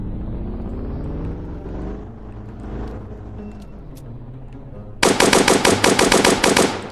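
Rapid automatic gunfire in the Roblox NYC hood game, a loud, fast burst that breaks in abruptly during the last two seconds after a stretch of low rumbling engine-like ambience.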